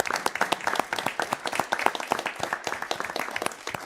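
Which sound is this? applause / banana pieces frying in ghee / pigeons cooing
applause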